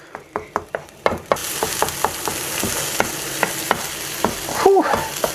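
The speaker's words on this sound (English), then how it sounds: "Then I'm just going to saute that for a couple of minutes until I get a nice pungent" Aromatics sauté in a pan for a Thai tamarind shrimp dish, with a constant sizzle and regular clacks of a utensil stirring and scraping, sharp taps at first and then quicker, softer stirring.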